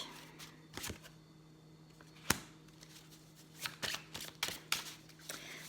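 Tarot cards are shuffled by hand in a quiet room, with soft riffling and flicking bursts and an occasional sharper snap, close and faint.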